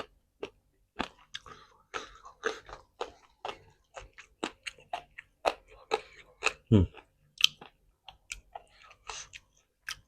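Crisp, crunchy chewing of green snake laab mixed with pork, roasted rice powder and herbs, eaten up close as a steady run of sharp bites and crackly mastication with brief pauses, no talk.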